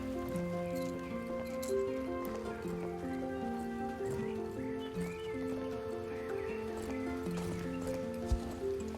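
A pony trots along in the Star Stable Online horse-riding game, its hooves clip-clopping in a steady rhythm beneath louder, continuous background music.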